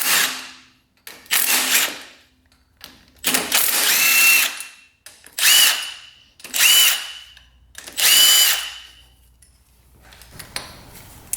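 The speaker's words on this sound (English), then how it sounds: "Let's get these bolts off, and then the head should come off of here." A power tool spins bolts off the engine head of a brand-new budget quad, several loud whirring bursts of a few seconds each with ratcheting clicks, close by and without talk.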